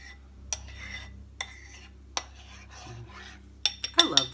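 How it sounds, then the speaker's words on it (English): A spoon stirs a bubbly proofed yeast mixture in a bowl, giving soft swishing and a few isolated clicks against the side, then a quick flurry of sharper clinks at the end; quiet and close. "And just stir it again."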